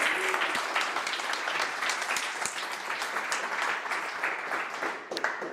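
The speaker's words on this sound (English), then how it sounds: "A big round of applause," A meetup crowd at an Angular Vienna developer event applauds a speaker, a sustained round of many hands clapping, fairly soft and even, trailing off near the end.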